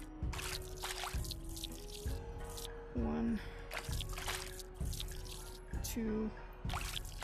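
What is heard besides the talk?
scoops of water poured into a wok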